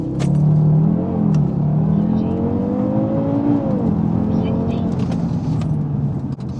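An Audi RS3 launches hard from a standstill, its engine note climbing steadily through a rising whir, then dropping at a gear change before pulling again, heard from inside the car with someone talking over it.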